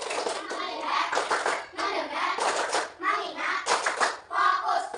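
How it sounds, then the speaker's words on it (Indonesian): Children in a classroom clap along in a counted clapping routine led by a teacher, short bursts of claps alternating with the voice calling out the count. "Tepuk 1, tepuk 2, tepuk 3, tepuk 4, tepuk 5, tepuk fokus"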